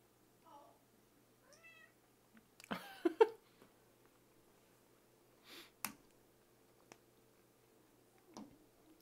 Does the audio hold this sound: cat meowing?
yes